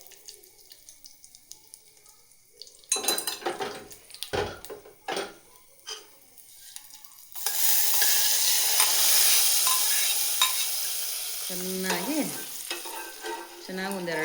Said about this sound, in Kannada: ಒಗ್ಗರಣೆ ಹಾಕ್ಕೊಂಡು ಒಗ್ಗರಣೆ ಅದಕ್ಕೆ ಸುರಿದ್ರೆ ಸಾಂಬಾರು ರೆಡಿ